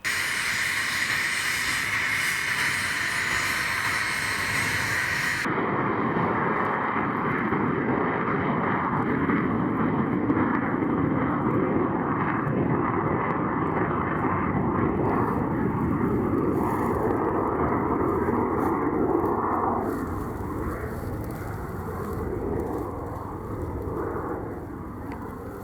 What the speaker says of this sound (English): The Alpha jet was also being readied for battle.